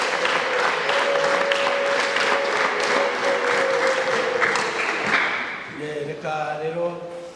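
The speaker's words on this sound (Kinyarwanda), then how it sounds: "tuyikomere amashyi" A church congregation claps together in sustained applause at a Sunday service, dense and steady for several seconds alongside a held sung or spoken tone, then thins out as voices take over near the end.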